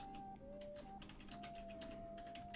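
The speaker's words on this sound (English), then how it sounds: "It's hearing Sam's typing noises" Soft, steady typing on a computer keyboard in another part of a home, faint rapid clicks over a low hum, with a thin electronic tone running through.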